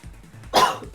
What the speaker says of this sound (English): I actually had the legit cough.